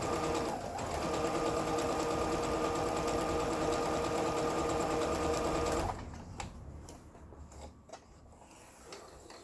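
A Brother CS6000i home sewing machine, just repaired after an E6 error, stitches an overlock stitch along a fabric edge. It runs loud and steady for about six seconds, then stops, leaving soft handling clicks.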